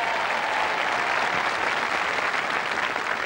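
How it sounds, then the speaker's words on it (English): Audience applause during a 1987 BBC royal charity knockout tournament, a steady loud wash of clapping from a large crowd holding throughout with no break. "Round of applause."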